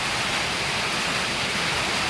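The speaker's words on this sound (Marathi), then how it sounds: "कसला पाऊस आहे बघा, जोरात यायला लागला." Heavy rain pours down over a village road, a dense, steady hiss of water that stays loud and unbroken throughout, with no voices.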